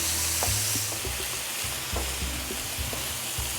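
Ribeye steak strips and peppers frying on a hot griddle give a loud, continuous sizzle, broken by repeated scraping and stirring strokes of a spatula.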